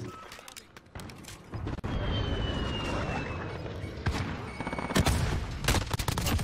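Rapid, loud bursts of PP19 submachine gun fire crackle almost continuously in Call of Duty Modern Warfare, with booming impacts and game effects layered throughout and a voice talking over the shooting.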